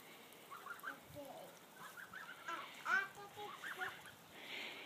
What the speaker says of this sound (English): The geese, they're climbing up that, their ramp all by themselves.